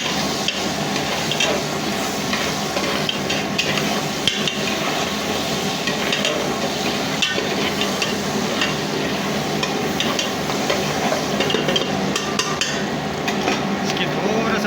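Onion frying in a pot for pilau, a dense continuous sizzle with scraping stirs and occasional knocks throughout, close and loud.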